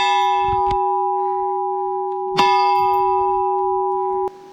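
Church bell in the square of Sutera, Sicily, struck three times with loud, ringing metallic clangs, each leaving a long sustained hum between strikes.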